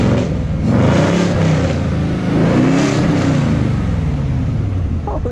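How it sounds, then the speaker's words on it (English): An 800hp Chevrolet Camaro ZL1 engine revs hard and roars, its loud exhaust rumbling and surging steadily throughout. "I heard the first suck, and then you hear all the exhaust"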